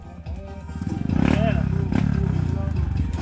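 A motorcycle engine revs and growls steadily on a dirt trail, loud and close, with voices talking over it.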